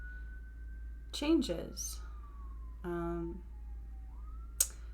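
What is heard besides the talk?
emergency vehicle sirens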